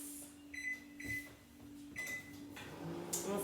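A microwave oven hums steadily while heating homemade puffy paint, with short beeps and clicks on top of a quiet, even drone.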